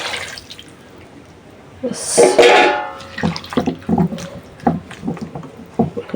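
Water splashes into a pot of small river fish being prepared for a chorchori, a short bright pour followed by clattering and handling sounds nearby.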